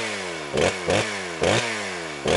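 A leaf blower's small engine runs close by with a steady buzzing drone, its pitch surging in four short bursts about every half second to second; no one talks.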